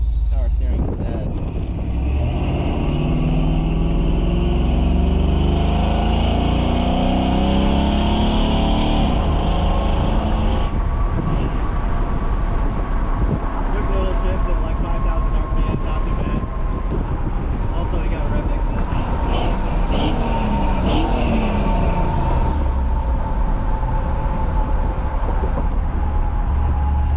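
Tired 2000 Chevrolet Silverado engine running rough with dead power steering, a loud constant low rumble with whining tones drifting in pitch, wind buffeting the microphone, and someone talking over it.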